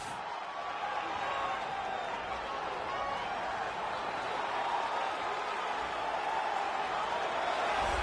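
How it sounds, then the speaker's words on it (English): A crowd in a UFC 3 video game arena roars steadily as a fighter walks out to the octagon. The dense, even cheering fills the whole stretch with no clear breaks. "the crowd pops as this guy makes the walk to the octagon"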